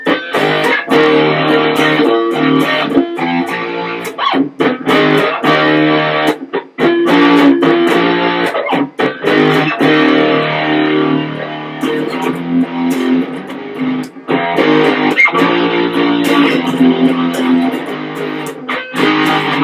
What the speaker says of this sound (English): And now we'll give it a little bit of distortion